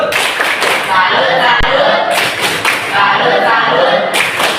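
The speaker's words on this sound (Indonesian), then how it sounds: "kita berikan tepuk salut" A class of students claps a rhythmic salute cheer together, loud and close, in repeated bursts of clapping with voices mixed in throughout.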